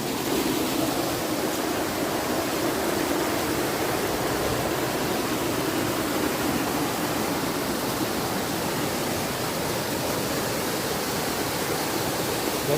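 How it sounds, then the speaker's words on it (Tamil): Kattar waterfall deep in a forest, water pouring down in a steady, dense roar that stays loud and unbroken throughout, with no voices over it. "எப்படி தண்ணி ஊற்றுது பாருங்க."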